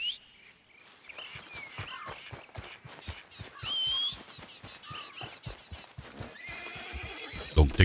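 Repeated clip-clop of hooves in a steady trot in a video game, with a horse whinnying partway through, set against faint background ambience.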